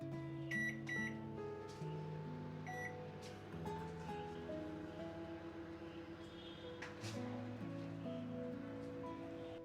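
A microwave oven hums steadily while drying curry leaves in a dish, a continuous droning tone with faint rattles, and a few short high electronic beeps early on.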